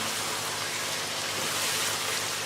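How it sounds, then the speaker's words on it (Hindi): Chicken karahi frying in a wok-style pan makes a dense, continuous, close sizzle that holds steady and loud with no pauses or speech. "चिकन बिल्कुल अच्छे तरीके से गल चुका है और इसको अब हमने भूनते जाना है।"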